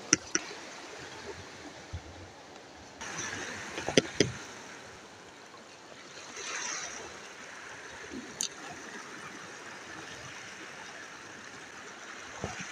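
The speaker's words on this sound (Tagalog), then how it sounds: "Hindi naman gaano kalakasan yung mga alon." Gentle sea waves wash and swish steadily at low level along a shore during a fishing trip, with a few faint knocks and bumps.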